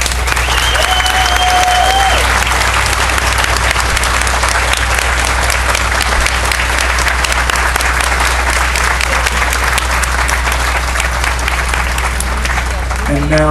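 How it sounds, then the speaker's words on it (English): Sustained, dense applause from a standing audience at a veterans' award ceremony, steady and loud throughout with a whistle or two near the start. "let's have another round of applause for all of our awardees."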